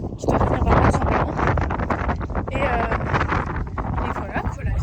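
Wind buffets a microphone outdoors in London in March, producing a constant low rumbling roar with gusty fluctuations that fills the whole stretch.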